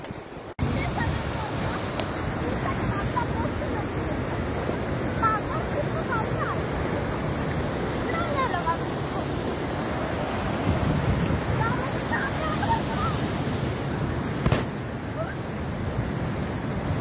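Sea waves wash steadily onto a rocky shore in a continuous roar, mixed with wind buffeting the microphone and faint voices in the background.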